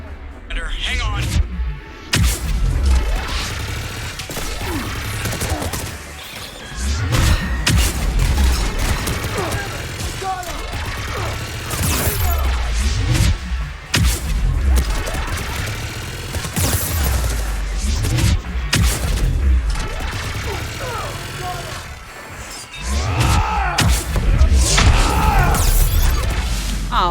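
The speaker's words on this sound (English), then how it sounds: "Just following the gunfire." Rapid bursts of Mass Effect 3 video game gunfire and impacts clatter throughout, with voices talking over the chaotic shooting.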